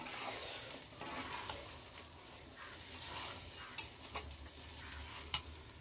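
Akbare chilli pickle mixture is stirred in a hot pan, giving a soft continuous sizzle with a few sharp spoon clicks and scrapes near the end.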